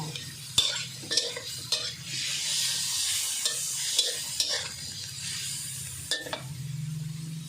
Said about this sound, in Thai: ตามด้วยพริกที่หั่นไว้ค่ะ